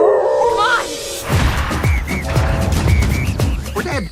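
Guard dogs bark, yip and howl in a film scene, a rapid string of sharp barks with rising howls over a rumbling score. A voice speaks briefly near the start.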